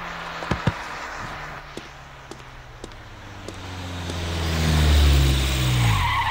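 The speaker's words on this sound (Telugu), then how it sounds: "ఎవడు ఈ టైంలో నా ఇంటి ముందు కారు సౌండ్?" A car pulls up in front of a house at night, its engine rising as it approaches and draws close, with tires and brakes audible before it settles, preceded by a few faint knocks.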